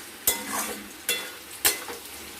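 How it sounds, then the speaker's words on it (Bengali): Cabbage and potato curry with fish head being stirred over high heat, three sharp scraping strokes of a spatula against the pan over a soft continuous sizzle, close and alone. "এবার আঁচ বাড়িয়ে এটা আমরা ভালো মতো করে নাড়াচাড়া করে নিই"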